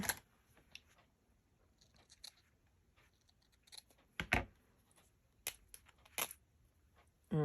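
Scissors snip quietly a few times with crisp clicks, spaced irregularly in an otherwise hushed room, close up and faint.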